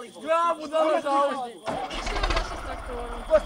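An IMT 539 tractor engine starts up and runs with a rough, steady mechanical rumble after a burst of shouting voices, with people continuing to talk over the engine.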